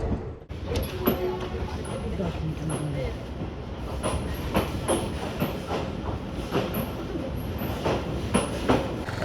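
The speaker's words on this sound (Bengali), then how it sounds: "আর আমাদের ট্রেন ছেড়ে দিল লালগোলা রেলওয়ে স্টেশন থেকে" The Lalgola passenger train rumbles steadily from Lalgola toward Sealdah, wheels clacking rhythmically over rail joints, with a constant low roar and a voice faintly audible at moments.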